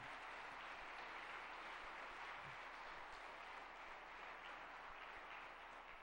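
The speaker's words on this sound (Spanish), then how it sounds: "Dale fuerte ese aplauso al Señor." A church congregation applauds after a sermon on the power of faith, a continuous faint wash of many hands clapping that sounds distant and steady for the whole stretch.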